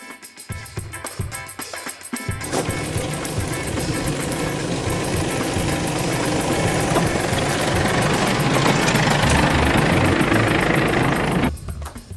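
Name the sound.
Isuzu D-Max V-Cross engine climbing sandy trail in 4WD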